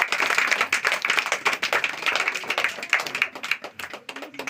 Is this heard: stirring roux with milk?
no